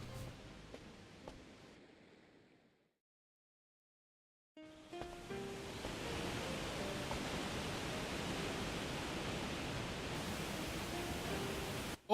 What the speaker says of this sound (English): Or maybe it's just a spectacular waterfall.